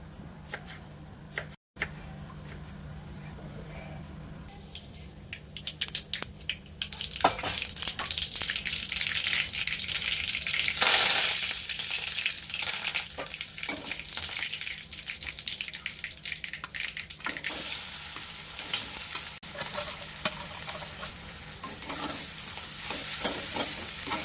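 Washed coriander goes into about one to one and a half spoonfuls of hot oil in a pan, raising a bright sizzle that peaks sharply partway through, followed by continuous frying crackle and scraping stirring at close range.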